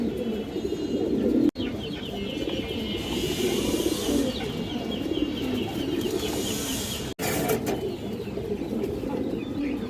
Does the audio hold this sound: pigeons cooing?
yes